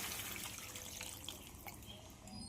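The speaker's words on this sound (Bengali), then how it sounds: "এবার এতে পরিমাণ মতো জল দিয়ে দিচ্ছি।" Water poured steadily into a pan of fish and vegetable curry, a soft continuous splashing and trickling that stays even and faint throughout without any voices.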